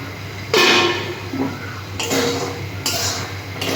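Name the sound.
lifting the lid off a cooking pot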